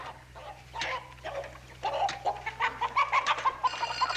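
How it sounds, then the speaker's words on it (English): Farmyard chickens cluck in a rapid, rising series of short calls, fairly close, with scattered rustling beneath. "Them's chickens, not turkeys."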